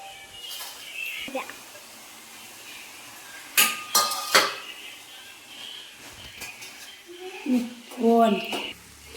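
Flattened rice (avalakki poha) is mixed with a tempering in a metal pan, producing a few scattered clinks and scrapes of a spoon against the pan amid quiet stretches, while a voice talks in the background.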